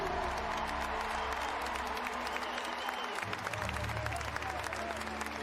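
Stadium crowd applauding the visiting guests at a football match, France versus England, sustained clapping and crowd noise with a low hum beneath and a faint voice over it.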